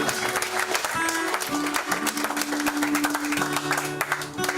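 A church congregation applauds and cheers the Lord at a French-language service, with dense, sustained clapping throughout, steady held musical tones underneath and a few scattered voices.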